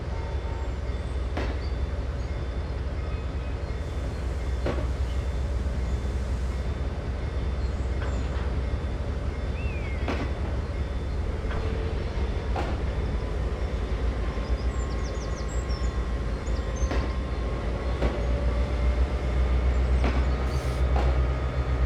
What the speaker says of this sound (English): Now switching this turnout and reversing this train.